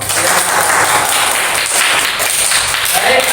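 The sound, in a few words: applause for all the groups in class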